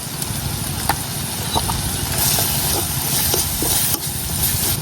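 Ground chilli, coriander, turmeric and salt sautéed in oil while being stirred for a shrimp and taro-stem dish, giving a steady close sizzle broken by scattered scraping clicks of the spoon against the pan, with no voices.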